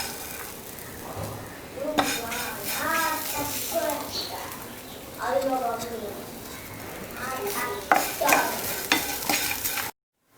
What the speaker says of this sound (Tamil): இதை ஆட் பண்ணி ரோஸ்ட் பண்ணி எடுத்துக்கலாம்.